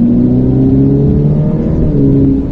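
A Ferrari F8 Tributo accelerates on a race circuit. A loud, close engine drone holds a steady pitch with rich low harmonics, heard from inside the car with no talking.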